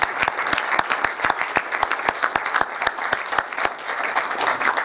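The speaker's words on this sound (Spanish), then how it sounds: "Para quien pide un aplauso aquí," Audience applause at a tribute ceremony in Arequipa, a steady room-filling clatter of many hands with sharp individual claps standing out, sustained at even loudness throughout.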